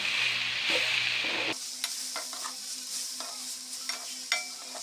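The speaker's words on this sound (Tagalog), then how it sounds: "Lagay na po natin ang ating udon noodles. Ayan. Haluin natin guys." Udon noodles and cabbage are stirred in a hot pan, giving a steady close sizzle broken by scraping and clacking of the utensil against the pan.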